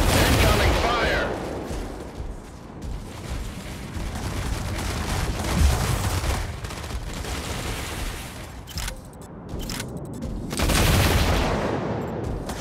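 Sustained bursts of rapid automatic weapon fire and blasts from a mech battle in the video game Mech Arena, loud and dense throughout, with a game voice announcing over it.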